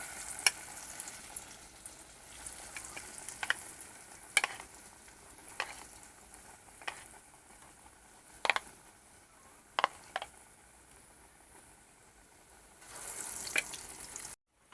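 Chopped banana flower fritters sizzle steadily in hot oil, a close, even frying hiss with occasional clinks of a utensil scattered throughout.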